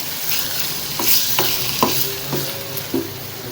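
Minced keema fries in a pan with ginger-garlic paste and green chilies, a steady close sizzle broken by several distinct scraping stirs.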